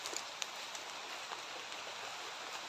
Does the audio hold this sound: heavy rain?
yes